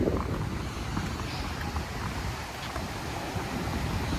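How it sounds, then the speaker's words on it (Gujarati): Sea waves surge around an island in a steady, loud wash of churning water, blended with gusty wind buffeting, continuous throughout with no voices. "એ મોજો ને ધડબડાટી બોલે છે"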